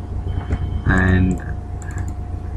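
Quick, light clicks of fingers typing on a computer keyboard, close and crisp, with a brief tonal sound in the middle of the clicking.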